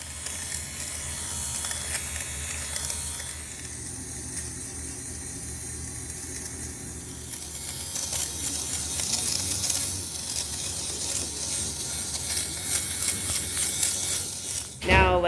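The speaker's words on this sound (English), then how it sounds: "So the final step is going over everything with my fabric shaver here." A fabric shaver's small electric motor hums steadily for a long stretch, its tone shifting as it is pushed across couch upholstery, ending with a brief rattling burst.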